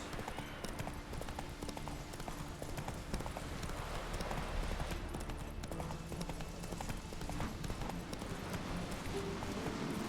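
Roach the horse galloping in The Witcher 3, a steady rapid clip-clop of hooves running continuously over a game soundtrack, close and moderately loud throughout.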